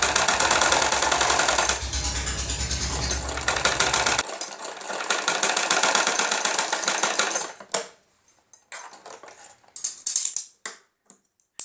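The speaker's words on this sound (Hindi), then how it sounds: "यहाँ से सिलाई हम शुरू करेंगे" An electric sewing machine stitches a belted salwar, a fast continuous whirring rattle that runs steadily, then stops and restarts in short bursts with quiet gaps and clicks between.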